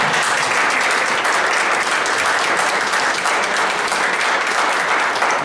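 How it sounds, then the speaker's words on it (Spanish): A crowd at a school graduates' reunion applauds steadily, dense continuous clapping that is loud and close throughout, with no clear talk over it. "Un aplauso"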